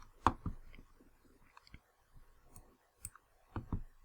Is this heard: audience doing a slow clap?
no